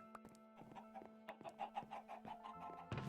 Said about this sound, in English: Check out the chickens here, grab all their eggs.